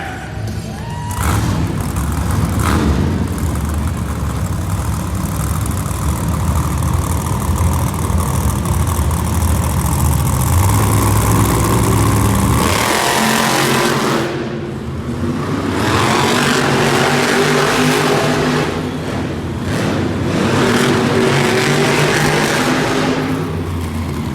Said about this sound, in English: It's David Olfert driving Jurassic Attack.